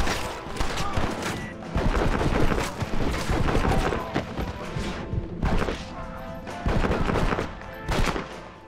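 Gunfire rattles through a Red Dead Redemption shootout, with dense rapid volleys and crashing impacts sustained across the scene, loud and close.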